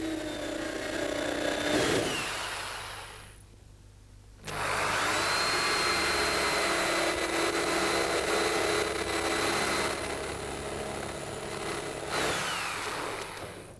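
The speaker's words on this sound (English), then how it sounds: "All the spots drilled out." A power drill bores out spot welds in a car body panel during bodywork repair, whining loudly and steadily in long continuous bursts with a brief pause between them, close by, with no talking.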